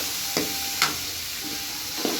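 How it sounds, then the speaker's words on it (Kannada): A spoon scrapes and stirs through avarekalu soppu bassaru in a pan with a faint sizzle, a few soft distinct strokes, close and quiet. "ಈಗ ಈ ಥರನೇ ಮಿಕ್ಸ್ ಮಾಡ್ತಾ ಇದ್ದೀನಿ"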